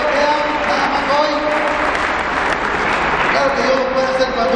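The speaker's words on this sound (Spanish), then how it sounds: "Yo le daré otro aplauso al Señor" A church congregation applauds in a loud, dense, sustained burst of clapping, with voices mixed in throughout.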